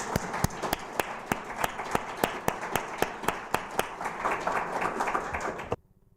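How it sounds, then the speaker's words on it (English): Applause at an EU accession exchange forum for panelists and audience, heard as a sparse, fairly regular run of distinct claps over a soft crowd bed, ending abruptly in near silence. "I hope that you all join me in giving big applause to the panelists and to the audience"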